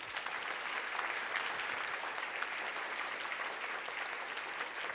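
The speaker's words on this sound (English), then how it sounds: "Ladies and gentlemen, round of applause for the professors, please" Audience at a professorship summit panel discussion applauding in a sustained, even wash of clapping, heard a little distant and alone without talk.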